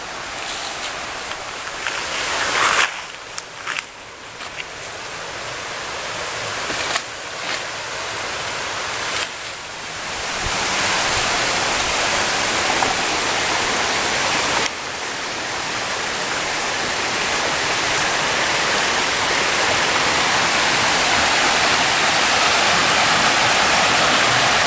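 Waterfall and river on a descending mountain trail at Gunung Manangel, a steady loud rushing roar of falling water that continues throughout, with a few brief dips and shifts as the listener moves, and no talking.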